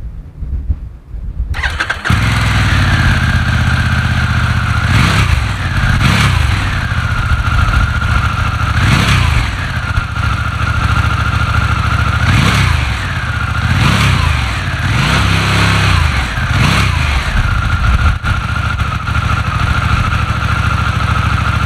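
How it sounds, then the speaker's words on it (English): A Harley-Davidson Pan America adventure motorcycle with a 2-in-1 exhaust starts up and runs loud and close, settling into a steady rumble punctuated by repeated throttle blips that rise and fall over about twenty seconds. "There's a 2-in-1 exhaust which has such a great sound as well."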